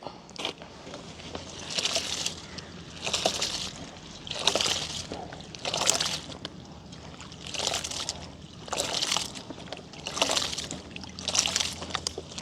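Water sloshing rhythmically as rice is swirled and rubbed by hand in a bowl, repeating in steady waves roughly every second, close up.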